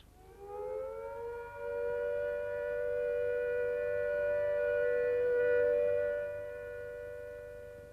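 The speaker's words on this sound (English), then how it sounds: "When the all clear sounds, like this," A civil defence all-clear siren holds one long, steady tone, rising at the start and then sustained for several seconds at moderate loudness, with no talk over it.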